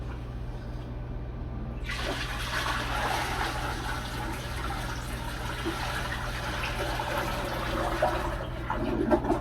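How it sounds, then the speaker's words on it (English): Mop water is poured from a bucket into a toilet, a steady rushing splash of liquid that starts abruptly after a quiet moment and continues close by, fairly soft. "we're going to dump the mop water into the toilet"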